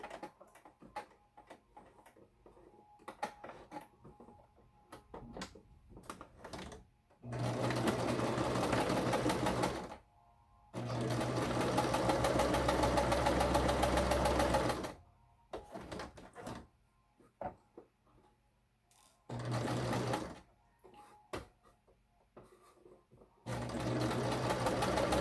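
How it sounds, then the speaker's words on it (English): A sewing machine stitching the seam of a fabric face mask, whirring in several bursts of a few seconds each, separated by pauses with small clicks and handling noises, close and alone. "Then you're going to sew along this side."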